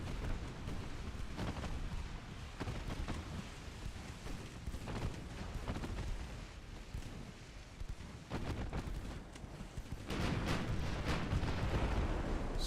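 Torpedo hits striking warships in the naval battle game Ultimate Admiral Dreadnought, a continuous rumble of heavy booms and explosions that swells louder near the end, with no talk over it.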